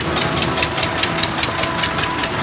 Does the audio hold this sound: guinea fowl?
no